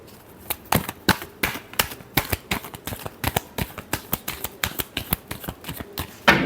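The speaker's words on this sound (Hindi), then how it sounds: "Last shuffle." Tarot cards being shuffled for a final time, giving a run of sharp, close riffling snaps at an uneven quick rhythm, fairly quiet and alone.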